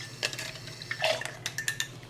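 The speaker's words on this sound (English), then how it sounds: "Mix up our brine and just pour it over." Brine poured over carrots packed tightly into a fermenting jar, with soft liquid splashes and a few clinks of glass spread across a couple of seconds, close and fairly quiet.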